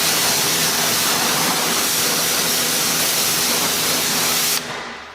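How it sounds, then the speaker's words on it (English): A steady, loud spray of water rinses a car's matte black wheel and tire, a continuous hiss that cuts off sharply near the end. "basically just kind of rinse off everything that's sitting on the outside of the wheel and the tire"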